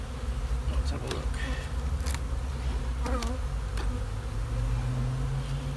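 Dense, continuous hum of honeybees swarming over the frames of an opened hive brood chamber, close and steady, with a few individual bees droning louder as they fly past.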